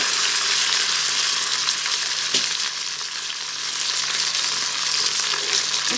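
Onion and green pepper frying in a pan, a loud, dense, unbroken sizzle of hot oil heard up close, with a single sharp clack near the middle and no talking.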